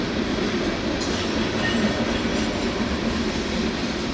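A giant freight train pulled by six engines, about 275 cars and 36,000 tons, rolls past with a steady rumble and faint wheel squeal, no voices.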